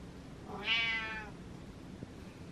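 A house cat gives one clear, close meow, a drawn-out rising-and-falling call lasting about half a second, with quiet room tone before and after.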